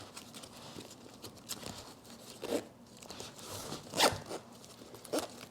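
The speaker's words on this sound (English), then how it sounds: "And it is a lot harder to zipper." Several short zipper pulls rasp close by on a loaded chest pack, separated by pauses and fabric rustling, the last couple of strokes sharper and louder.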